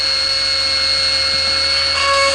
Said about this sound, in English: So, I'll just drill into a healthy tooth until I reach the pulp.